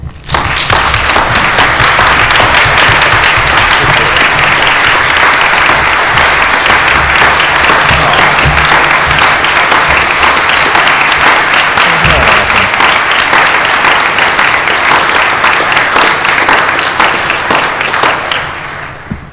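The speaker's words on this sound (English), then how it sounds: "he deserves our applause" Sustained audience applause for a man at a live event, loud and dense clapping from a large crowd holding steady for nearly twenty seconds before tapering off at the end.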